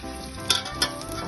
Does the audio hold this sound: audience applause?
no